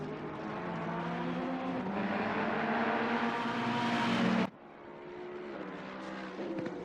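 Ferrari race cars roar around the Zolder circuit, the engine note swelling steadily louder before cutting off abruptly, then a quieter engine drone carries on and builds again toward the end.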